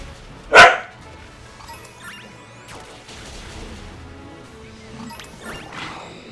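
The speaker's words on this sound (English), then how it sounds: "Excuse the bark in the back, peeps," A dog barks once in the background, a single sharp loud bark near the start, followed by quieter indistinct household sounds and faint thumps.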